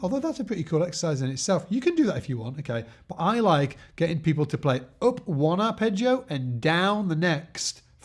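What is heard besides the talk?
No distinct noise like a dog, phone or traffic.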